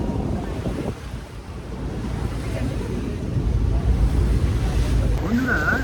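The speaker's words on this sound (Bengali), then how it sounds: "হেভি হাওয়া দিচ্ছে" Strong wind buffets the deck of a river cruise boat at dusk, a loud, continuous rushing roar with blustery microphone rumble and water wash beneath, swelling stronger toward the end.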